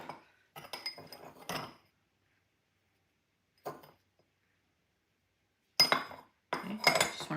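A spoon scrapes and clinks against a bowl while all-purpose flour, sugar and salt are mixed for fried hand pies, coming in short bursts of clatter separated by silent pauses.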